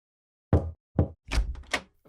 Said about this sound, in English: the King knocked on the General's door